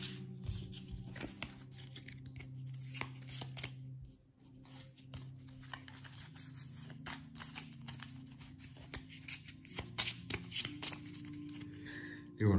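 Board game cards for This War Of Mine shuffled by hand, a steady riffling patter that runs for most of the stretch with a short pause midway and a low hum underneath.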